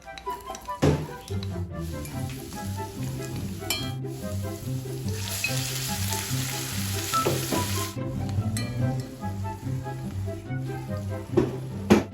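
Ground pork fries in a pan with a steady, close sizzle, stirred now and then with tapping and scraping.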